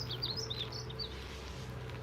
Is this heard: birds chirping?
yes